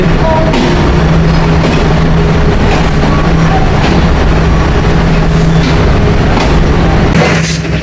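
Intercity Chitra Express train pulling into platform 3 at Khulna railway station, a loud, steady rumble and rattle of wheels and carriages throughout with faint clanks, no talking.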